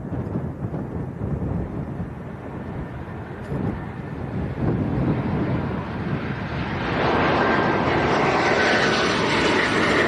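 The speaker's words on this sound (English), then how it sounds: "This looks like a Ryanair." A Ryanair airliner arrives at Leeds Bradford Airport, its engines a broad, rumbling roar that swells and grows louder toward the end as the jet draws closer, with no voices.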